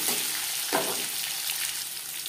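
Onion fries in hot oil with bay leaf and five-spice seeds, producing a continuous close sizzling hiss with a brief stirring scrape partway through.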